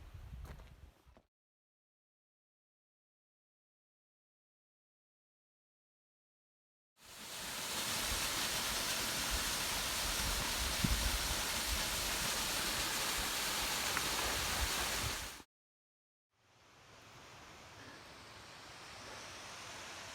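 A distant waterfall in a mountain cirque on Mt. Timpanogos gives off a steady broadband rush, with stretches of silence before and after it.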